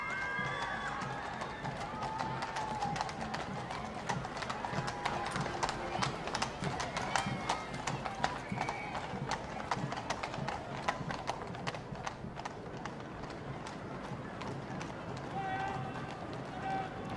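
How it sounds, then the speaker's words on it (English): Steady clip-clop of many horse hooves pulling carriages on pavement at the Trooping the Colour parade, with a crowd murmuring and cheering in the background. "Duchess of Cambridge and other guests in the first carriage."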